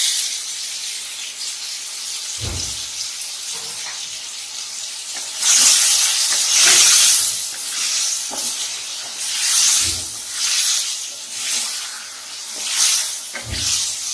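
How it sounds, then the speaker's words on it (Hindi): Onions and spices fry in a pan for a potato, eggplant and meat curry, giving a steady close sizzle that swells with stirring, punctuated by occasional low knocks of the spoon against the pan. "यहाँ पे ये फ्राई होना शुरू हो गया है"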